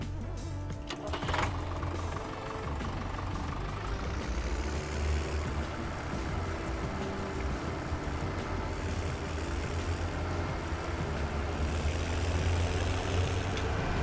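A tractor engine idles and runs in a truck-driving video game, producing a constant low diesel drone with a mechanical chatter that stays steady and fairly loud throughout, with a brief clunk of activity near the start.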